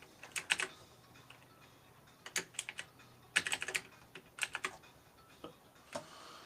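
Irregular bursts of typing on a computer keyboard, clicks clustered in quick runs with short pauses, fairly close and quiet with no talking.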